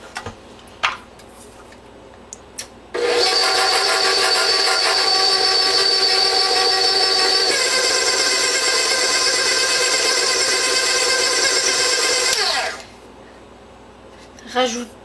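A stand mixer runs steadily for about ten seconds, blending Moroccan chebbakia dough after orange blossom water is added, a loud continuous whir starting abruptly and cutting off cleanly, with small clinks before and after.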